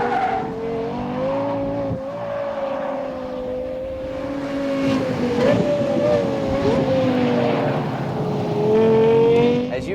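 A Lexus LFA screams around a racetrack, its engine note holding high and steady with rapid shifts from the 6-speed ASG transmission causing brief dips and jumps in pitch, loud and close throughout.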